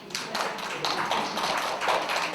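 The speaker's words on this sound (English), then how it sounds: "You can clap." Audience clapping at a building residents' gathering: a lively, sustained patter of many hands, fairly close and steady throughout, with a few louder bursts standing out from the crowd.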